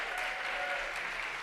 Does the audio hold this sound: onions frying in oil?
no